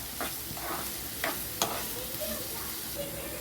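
Chopped onion fries in hot oil in a kadai for pav bhaji, a faint steady sizzle with a few soft stirring scrapes of a spoon, quiet and close.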